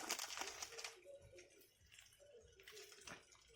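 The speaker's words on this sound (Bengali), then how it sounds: "এক চামচ কাশ্মীরি লঙ্কা গুঁড়ো দিয়ে দিলাম পরিমাণ মতো জল দিলাম" Water is poured into a pan of spicy fish curry with Kashmiri chili powder, a faint splashing trickle in short soft bursts, quiet and close with no talking.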